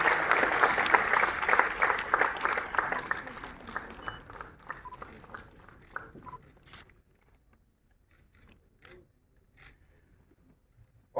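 Audience at a book release during a book festival in Srinagar applauds loudly, dense clapping that tapers off into scattered claps and near silence.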